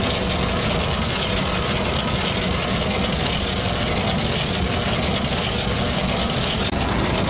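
Small boat motor running on open water on an overloaded homemade craft, a loud constant drone with steady rumble and no breaks.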